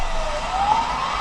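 A police siren wails steadily over traffic noise as it pursues a delivery truck on an Australian street, a single sweeping tone rising gradually through the short stretch with no talking.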